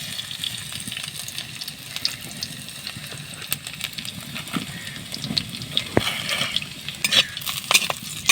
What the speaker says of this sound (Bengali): শাকে ফোড়নের জন্য দিয়ে দেবো শুকনো লঙ্কা, 5 ফোড়ন আর রসুন থেতো করা